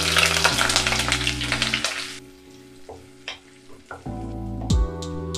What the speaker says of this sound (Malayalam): ഓയിൽ ചൂടായിട്ടുണ്ട്, നമുക്ക് ഓരോ ഒനിയൻ ഡൈസ് ചെയ്ത് ഇതിലേക്ക് ഇട്ട് സോൾട്ട് ചെയ്യാം.